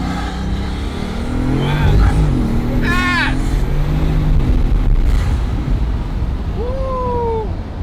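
A 1200-horsepower open-top Bugatti Veyron Rembrandt edition accelerating hard, its engine note rising and surging in loud sweeps, with people talking and exclaiming over it.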